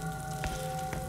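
A burger patty frying on a grill in a video game gives a soft, steady sizzle under sustained tonal game audio, with two brief clicks standing out.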